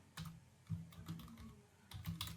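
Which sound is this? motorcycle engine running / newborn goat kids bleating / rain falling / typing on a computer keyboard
typing on a computer keyboard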